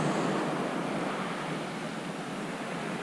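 Sea waves wash continuously over a shingle beach at Pevensey Bay in the evening, a steady broad roar of surf and rattling stones with some wind, no voices.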